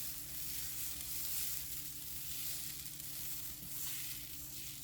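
Bean flatbread made from two ingredients cooks in a hot pan, giving a steady, close sizzle with a low hum beneath, continuous and even throughout with no talking.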